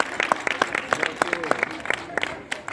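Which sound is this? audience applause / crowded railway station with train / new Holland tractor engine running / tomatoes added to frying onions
audience applause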